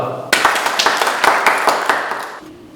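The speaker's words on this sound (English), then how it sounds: "Give a big round of applause to Anubhav Gupta." Audience clapping breaks out after a performance at a talent show, a burst of distinct close claps that begins abruptly and fades after about two seconds, with some voices mixed in.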